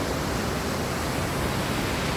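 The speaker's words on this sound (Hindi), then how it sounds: "नदी में पानी आ गया है" A river swollen after overnight rain flows strongly, heard as a dense, even roar of rushing water with no pauses and no voices.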